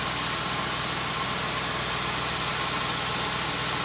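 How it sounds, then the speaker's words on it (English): A 2002 Mercury Grand Marquis GS with a 4.6-litre two-valve V8 idles steadily up close, a continuous low rumble with even, unbroken engine noise and no talk. "So this is a 2-valve engine."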